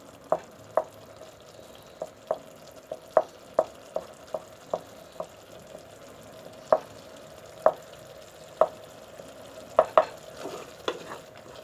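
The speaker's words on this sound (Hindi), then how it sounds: "अब मैं इसको अच्छी तरह से भून लूँगी।" Kachnar mince (qeema) frying in a pan, with a spoon stirring in repeated sharp scraping taps against the pan over a faint steady sizzle.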